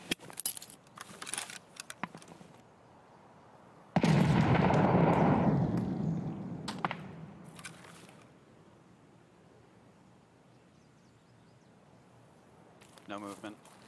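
A grenade exploding in the video game Escape From Tarkov, a sudden loud blast that rolls off into a fading rumble over several seconds, with people talking briefly before and after.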